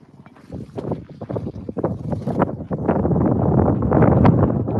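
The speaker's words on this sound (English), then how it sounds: "It'll be windy out here." Gusty wind buffets the microphone on the Dolan Springs Trail, Arizona, rumbling low and rising steadily louder toward the end, with brief rustling bursts throughout.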